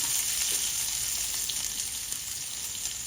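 Mustard seeds, garlic and shallots fry in hot coconut oil in a Kerala kitchen, giving a steady, close, bright sizzle with faint crackles throughout.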